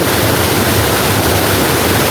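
Kim Yai waterfall, also called Sap Sakaew, at Ban Khao Phluang in Phetchabun pours in a loud, steady, full roar of rushing water, heard close with no voices.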